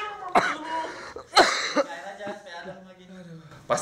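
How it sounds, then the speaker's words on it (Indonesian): Repeated close coughing from smoke at a kerupuk cracker-making site, a series of sharp hacking bursts with some throat clearing, loud and uneven. "Pasti Anda kena batuk-batuk gara-gara asap ya"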